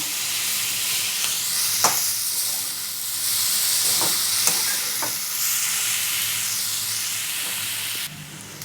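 Rohu fish pieces frying with onion, ginger and garlic in a pan, a loud continuous sizzle and hiss with several sharp spatula scrapes as the pieces are turned.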